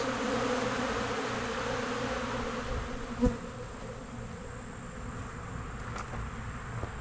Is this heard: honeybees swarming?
yes